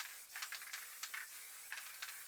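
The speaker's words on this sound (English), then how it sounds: "Just spray it here and there." Night blue spray paint hissing from an aerosol can in short, uneven bursts, applied here and there over a background, close and fairly soft with no voices.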